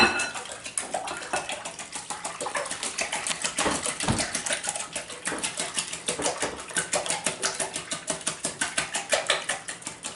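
Rapid, rhythmic clicking of a whisk beating eggs and milk in a bowl for a veggie frittata, fast steady strokes close up for the whole stretch, no talking.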